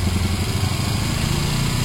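A motorcycle engine with no airbox fitted idles steadily up close, a loud, even low-pitched putter with no pauses.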